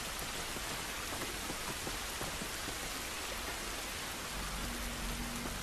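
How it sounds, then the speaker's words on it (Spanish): Steady heavy rain falls outdoors in the video game The Last of Us, a dense continuous hiss with pattering drops and a low rumble underneath, with no voices. "Esta lluvia no nos va a ayudar."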